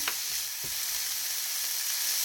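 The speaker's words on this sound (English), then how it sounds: "I'm going to saute my veggies around" Vegetables sautéing in a hot pan for tacos, a continuous soft sizzle with a few stirring knocks, close and alone.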